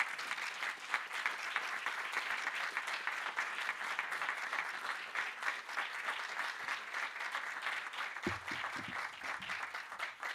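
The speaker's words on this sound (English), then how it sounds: "May we welcome her with a warm round of applause." Sustained applause from a large audience at a professorial inauguration, steady dense clapping filling the room for about ten seconds before tapering near the end.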